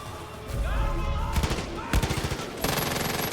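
Rapid bursts of automatic gunfire in the video game Far Cry 5, loud and close, firing in several rattling volleys with short pauses between them.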